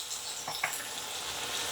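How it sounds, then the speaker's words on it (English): Chopped onions and peppers sauté in a hot pan, a steady close hiss of frying with a couple of faint stirring clicks and no voices. "let me get these onions and peppers cooked down a little bit, sauteed a little bit"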